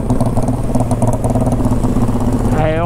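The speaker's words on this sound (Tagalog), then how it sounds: "Pagpatakbo, tignan nyo, hindi naman bumibilit yan. Tamang sounds lang ng pipe." A motorcycle engine runs loud and close through its exhaust pipe, a steady, throbbing idle with a rough, pulsing rumble that holds for a few seconds before a faint rising whine at the end.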